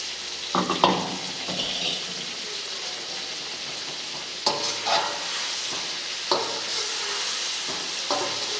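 Green chillies fry in a chicken karahi with a moderate, continuous sizzle, punctuated every few seconds by stirring scrapes and clanks of a utensil against the pan.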